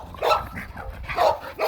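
Zoe, a pet dog, barks excitedly while her leash is put on, giving a quick series of three or four sharp, close barks in an uneven rhythm with soft scuffling between them.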